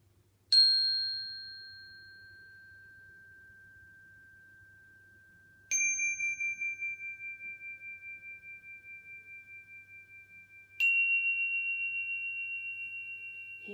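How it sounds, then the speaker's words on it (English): A meditation chime rings three times at the close of a yoga class, each clear bright strike sustaining and slowly fading into near silence before the next. "listen to the chime"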